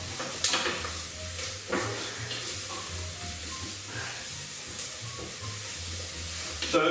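A vegan Thai sweet potato and coconut soup mixture is stirred in a pan, giving a steady close sizzle with occasional scraping knocks of the spoon.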